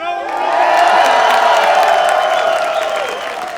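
An esports arena crowd at a Dota 2 quarterfinal in New York cheers, whoops and applauds loudly in one sustained swell that rises quickly and fades slightly toward the end.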